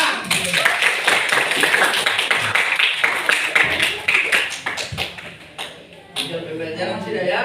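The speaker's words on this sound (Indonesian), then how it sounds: "Oke, tepuk tangan." A school class claps hands together, quick bursts of clapping close by that thin out toward the end, with children's voices mixed in.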